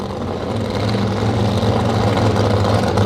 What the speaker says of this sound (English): Backing up from the burnouts and a couple of dry hops later, they'll stage up these two high horsepower beasts.